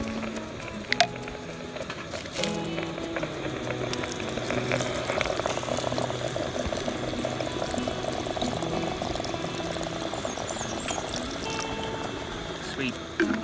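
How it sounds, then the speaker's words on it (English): Water pours in a continuous splashing stream into a camp pot of dehydrated potatoes outdoors in the backcountry, steady and close for over ten seconds with a couple of clanks at the start. "And we're going to go ahead and top that off with some more water."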